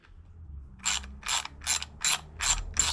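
Ratchet tightening the Screamin Eagle Elite air cleaner kit on a 2019 Harley-Davidson Softail Slim, six evenly spaced bursts of close clicking after a short quiet start, clear and alone.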